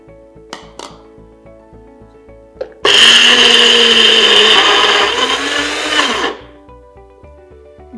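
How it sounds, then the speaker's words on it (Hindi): Mixer grinder coarsely grinding jowar (sorghum) grains, a loud, steady whirring roar that starts abruptly, runs about three seconds and cuts off, preceded by a few light clinks of the jar. "इसको थोड़ा सा ग्राइंड कर लेंगे क्योंकि इसका दाना बहुत बड़ा है।"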